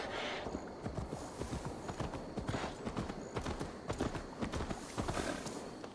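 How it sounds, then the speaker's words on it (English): Steady, quick clip-clop of a horse's hooves in Assassin's Creed Valhalla, continuous and moderately close over a soft ambient bed; no clear whinny stands out. "Your horse is a little unsettled, but safe."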